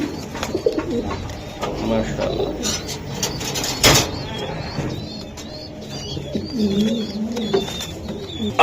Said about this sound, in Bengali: এই যে কবুতরগুলা আমি একটু দেখাই দিলাম